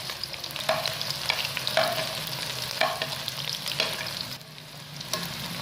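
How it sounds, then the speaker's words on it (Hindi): Chopped onions fry in about two spoons of oil for a urad dal mash dish, with a soft continuous sizzle and repeated scraping stirs of a spoon against the pan at a moderate distance. "अब हम इसमें प्याज ऐड करेंगे जो हम लोगों ने काटा हुआ था।"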